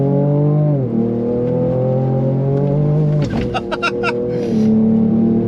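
A Ford Ranger Raptor accelerates hard down a straight during a track lap. The engine note climbs loud and close through gear changes, with a brief rough burst midway, heard from inside the cabin.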